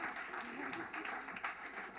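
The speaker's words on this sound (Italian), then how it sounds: "Un applauso forte, signori." An audience applauds on an Italian music television show: steady, dense clapping fills the room throughout, with a host's voice talking over it.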